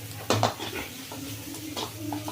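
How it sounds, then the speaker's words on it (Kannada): A spatula stirs and scrapes a shrimp and egg stir-fry in a lightly oiled pan, giving a few close, clattering clinks and scrapes with a soft frying hiss underneath. "ನೋಡಿ, ಇದು ಫ್ರೈ ಆಗ್ತಾ ಇದೆ."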